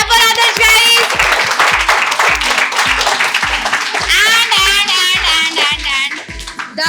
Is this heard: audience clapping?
yes